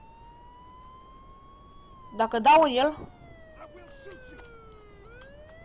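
A police car siren in the video game Mafia 2 wails steadily in the background throughout, with a brief burst of talking in the middle.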